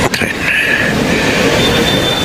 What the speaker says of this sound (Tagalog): Sa daraanan ng tren.